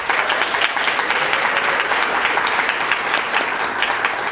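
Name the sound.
applause for psychiatry residents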